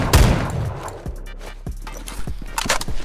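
Shotgun fire from the semi-auto Saiga 12 in the Phantom Forces video game: a burst at the start, then several sharp, evenly spaced single shots over about three seconds.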